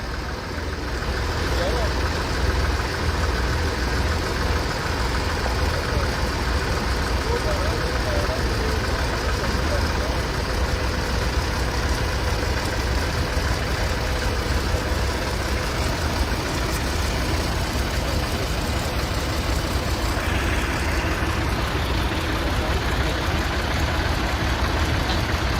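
Tractor engines idle together at a farmers' Republic Day tractor march, a steady dense rumble that fills the whole stretch, with crowd voices mixed in throughout.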